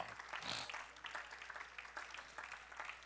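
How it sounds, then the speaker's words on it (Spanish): A church congregation applauds during worship, a steady, fairly faint wash of many hands clapping with no voices clearly over it. "dale un aplauso al rey"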